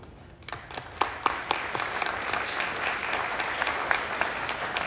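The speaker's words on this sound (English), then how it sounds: "it would be appropriate to offer applause" Applause from a town meeting crowd, beginning with a few scattered claps that build into steady, dense clapping from many people in a hall, with a few sharper individual claps standing out.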